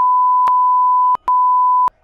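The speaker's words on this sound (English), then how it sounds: "You're gonna beep that." A censor bleep sounds as a loud, pure steady tone, broken by a few sharp clicks and one brief gap, then cut off abruptly near the end.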